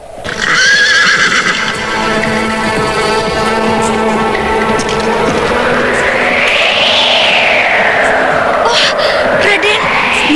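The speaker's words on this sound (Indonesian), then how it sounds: "luar biasa sekali lari kuda ini" A horse neighs loudly near the start, then hooves gallop in a steady clip-clop under ongoing voices and a rising and falling musical swell, all close and fairly loud throughout.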